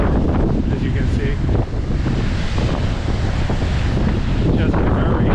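Strong storm wind on the Lynn/Swampscott waterfront of the North Shore on a rainy day under a coastal flood warning: a loud, continuous roar buffets the microphone, with crashing surf mixed into the steady rush.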